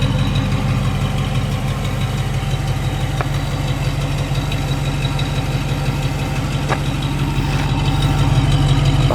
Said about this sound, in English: The exhaust sounds great.